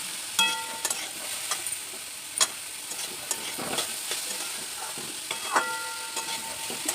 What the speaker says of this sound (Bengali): মিডিয়াম টু লো ফ্লেমে আমি এবার একটু ভেজে নেব পেঁপেটা